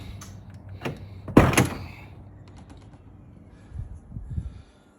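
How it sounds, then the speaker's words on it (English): The tailgate of a Range Rover is lifted during a third brake light upgrade: one sharp, close mechanical clunk and rattle, then softer handling knocks and thumps, with no voices. "I'm gonna lift the tailgate up."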